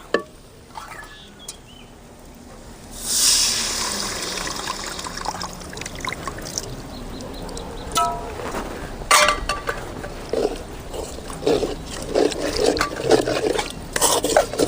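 Water trickles and splashes into a pot of urad dal curry amid clinks and stirring scrapes, fairly close, continuing for several seconds after a quiet start.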